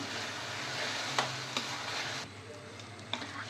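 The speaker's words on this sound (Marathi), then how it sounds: "आता आपण हे परत ना मिक्स करून घेऊयात छानपैकी" Mashed eggplant mixture for Jalgaon bharit stirred in a hot pan, a steady close sizzle with a few sharp scraping ticks from the spoon, easing quieter partway through.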